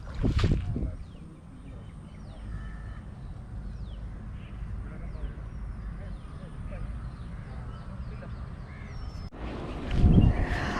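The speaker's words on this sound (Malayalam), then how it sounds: "ഇവിടെ നിന്ന് ബോട്ട് തള്ളി പായലിൽ കൂടി കൊണ്ടായാലും മാത്രമേ നമുക്ക് വെള്ളമുള്ളിടത്തേക്ക് എത്തിക്കാൻ പറ്റുള്ളൂ" A boat is pushed through thick weed-choked water in the Kerala backwaters, making a steady, close rustling and swishing drag. Distant crows caw over faint wind, and a louder scraping burst comes near the end.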